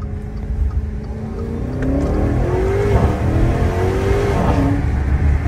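A car engine revs with its exhaust valve open, giving a loud, throaty drone that climbs and sweeps in pitch as the car accelerates, heard close and with no voices over it.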